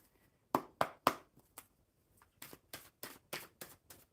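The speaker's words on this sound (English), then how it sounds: "I'll keep shuffling until something falls out" Playing cards shuffled at a table during a relaxed live chat: a steady run of about a dozen crisp, papery riffles and snaps, close and clear with short pauses between them.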